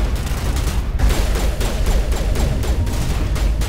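Enemies blowing apart in the video game Mass Effect, a dense, continuous barrage of loud blasts and rapid gunfire-like bursts crowding the whole stretch with no pauses.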